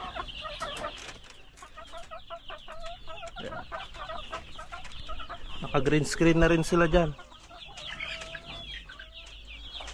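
Small hungry chickens cluck steadily around a farmyard, with a louder burst of clucking near the middle; a person talks over them throughout.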